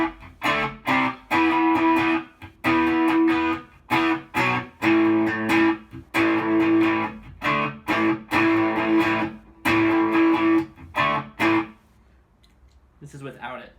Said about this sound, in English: Here's with a little chorus in it.